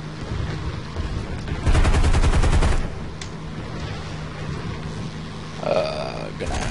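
A rapid, loud burst of automatic aircraft gunfire, about a second long, rattles over steady engine drone in War Thunder, followed by a brief quieter sound later.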